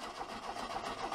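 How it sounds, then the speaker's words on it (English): A Volkswagen air-cooled engine on a bench outside the car, cranking and trying to start, a loud continuous rough mechanical churn with a pulsing rhythm and no talk. "trying to start the engine"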